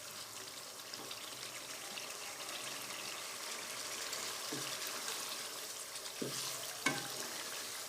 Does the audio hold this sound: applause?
no